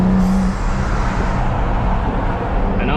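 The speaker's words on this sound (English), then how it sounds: "Let me know if you guys like the intake sound" Loud, sustained engine and intake roar from a big-turbo BMW 440i with an N55 engine and a custom-built intake, heard close as the car pulls hard on a Florida street, continuous with no talk.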